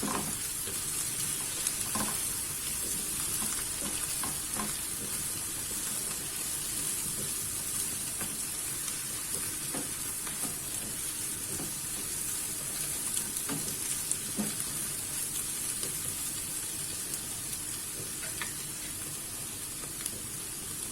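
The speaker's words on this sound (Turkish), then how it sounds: "kısık ateşte kavuracağız" Steady crackling sizzle of eggplant and vegetables sautéing over low heat in a hot pan, with occasional soft clicks and stirring sounds, continuous and close.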